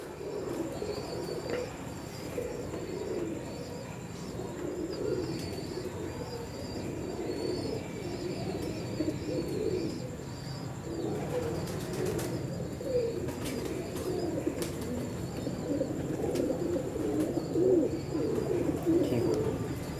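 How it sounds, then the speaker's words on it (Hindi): Kamgar pigeons with vermilion eyelids coo in a continuous, soft, low rolling murmur, several birds overlapping close by, with faint higher chirps above and no talking. "ये है संदूरी पलक वाले कमगर कबूतर"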